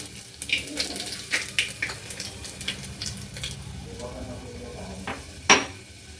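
Garlic sizzling in hot oil in a pan, with repeated stirring scrapes and clinks of a utensil against the pot, a steady close fry under the clatter.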